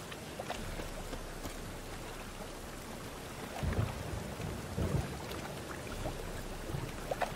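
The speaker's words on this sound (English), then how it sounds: "A storm, damn it." Thunderstorm in The Witcher 3: Wild Hunt, steady rain hissing throughout with low rolling rumbles of thunder swelling twice midway, no speech.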